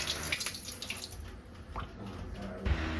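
Mutton gets washed under running tap water, a short close splashing and trickling as the meat is rinsed in a sink.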